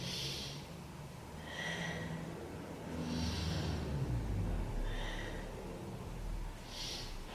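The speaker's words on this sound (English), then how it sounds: "Let's take 3 breaths into the rib cage." Slow, deep breaths into the rib cage during a beginner yoga session, about three drawn-out inhales and exhales, close and soft, with no talk.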